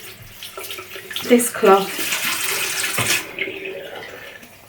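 Warm tap water runs into a sink to wet a face cloth during a skincare routine, a steady splashing stream with someone speaking briefly over it.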